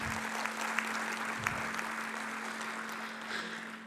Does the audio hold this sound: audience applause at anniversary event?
yes